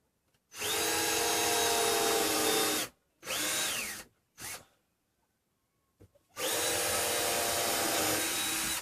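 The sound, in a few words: power drill pre-drilling a screw hole in a 2x4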